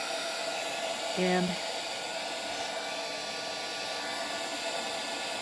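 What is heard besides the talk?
heat gun heating a book spine to melt the glue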